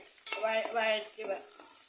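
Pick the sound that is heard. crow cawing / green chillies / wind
green chillies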